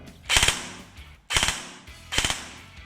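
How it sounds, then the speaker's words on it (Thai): An airsoft BB gun with an FC-40 fire-control board in a V2 gearbox fires three separate two-shot bursts in semi mode, each a sharp close double crack with short pauses between them. "อ่าโหมดเซมิก็จะยิงเบิร์ด2นัดนะฮะ"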